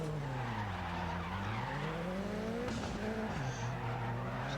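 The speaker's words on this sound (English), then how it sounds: "getting a lot more tire squeal out of that final turn" A rallycross race car squeals its tires through the final turn at the Germany round, a long wavering screech over a steady engine roar, with a brief louder burst partway through.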